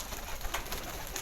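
An amber-headed Indian pigeon coos softly on a rooftop, with low, rolling calls against a faint background hiss.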